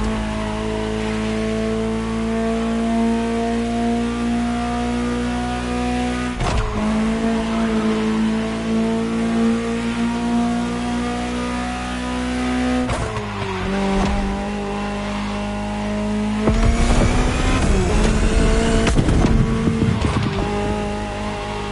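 A Ferrari supercar drives and accelerates close by, its engine note climbing through gears with shifts and rising revs, growing louder and rougher toward the end.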